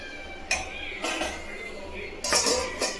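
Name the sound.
serving rice and bitter gourd curry onto a plate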